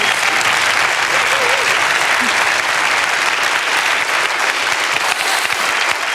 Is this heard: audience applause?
yes